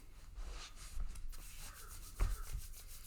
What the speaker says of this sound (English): take your essential oil, if you have it, and rub your hands together and create some heat